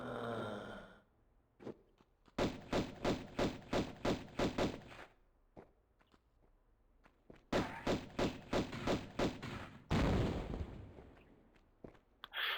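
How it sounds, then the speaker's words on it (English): In Tomb Raider 1, an enemy fires its arm cannon in two rapid bursts of sharp, evenly spaced blasts, followed by a heavier impact, with quiet gaps in between and no talk. "Because this guy shoots his arm cannon."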